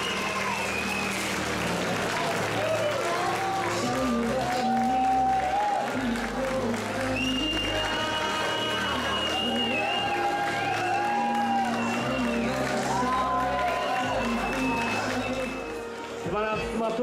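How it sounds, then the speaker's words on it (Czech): A crowd at a Czech business academy and hotel school graduation ball claps and cheers to welcome the graduating class N2, with sustained applause mixed with loud music and voices throughout. "můžeme opět velkým potleskem přivítat celou maturitní třídu N2, velký potlesk"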